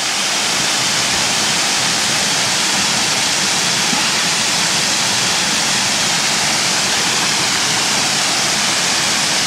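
A waterfall at Ricketts Glen State Park roars with a steady, dense rush of falling water, loud and close, unbroken by other sounds.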